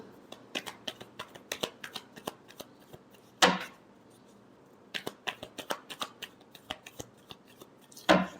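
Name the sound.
tarot cards being shuffled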